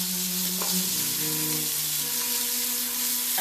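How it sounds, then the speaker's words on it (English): Veal browns in a frying pan, producing a loud, continuous, close-up sizzle and hiss with faint stirring underneath and no talking. "we're going to brown both sides of this veal"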